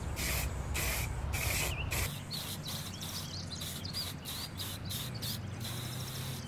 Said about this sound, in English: I'm just giving the jar a really good coat